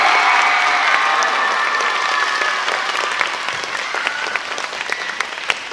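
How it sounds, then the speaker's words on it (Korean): An audience at a magic show in a Seoul middle school claps loudly, with dense applause that slowly thins into scattered claps toward the end. "여러분들이 조금 더 다른 관객들과 차별되게 더 뜨거운 박수가 필요하거든요"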